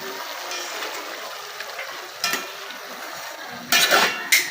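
Chicken sautéing with onion and garlic in a pan, a low, uneven sizzle broken by a few louder bursts of stirring and scraping, steady and close with no voices.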